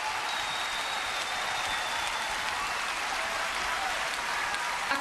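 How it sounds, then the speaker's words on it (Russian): A concert audience gives a sustained ovation, with thick, continuous clapping at a loud, steady level and a faint whistle threading through it. "Поддержите, поддержите, искупайте ее в овациях."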